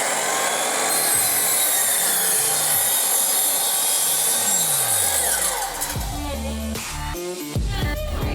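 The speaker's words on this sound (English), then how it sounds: "So we are about to start cutting this piece of plywood" A saw cuts through a sheet of plywood outdoors with a loud, continuous rasping drone, the cutting pitch shifting and stuttering toward the end as the blade works through the wood.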